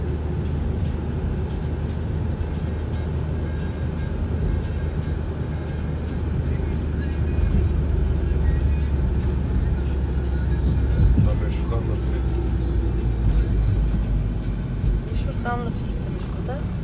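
Steady low engine and road rumble inside a car on a highway road trip toward Konya and Aksaray, a continuous drone with tire noise and a brief louder swell midway, with faint talk beneath.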